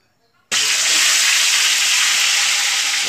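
Snakehead fish drops into hot oil in a home kitchen, setting off a sudden loud, sustained sizzle and hiss that starts abruptly after a brief quiet moment and stays strong.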